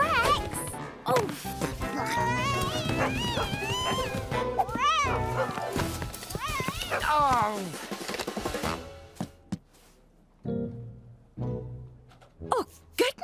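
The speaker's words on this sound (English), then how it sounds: "I think Cooper likes to chase cats" A cartoon dog chases a cat, with yowling meows and excited animal cries over music, then a crash followed by scattered thumps and quieter moments.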